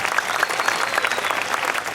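An audience at a Hindi poetry gathering applauds poet Vyanjana Shukla with dense, steady clapping that holds at an even level throughout, with no voices over it.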